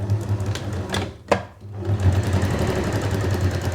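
Sewing machine stitching a small fabric bow for a zipped makeup bag, a close rapid mechanical chatter that pauses briefly with a click near the middle, then resumes steadily.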